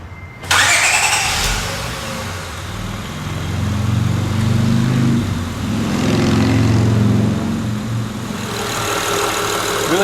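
Honda J-series V6 engine cranks and catches close by, then settles into a steady, even idle that swells slightly and continues to the end.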